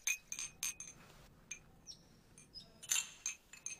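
Glasses clink together in a toast, several sharp bright chinks in quick irregular bursts, close and fairly soft, with no talking over them.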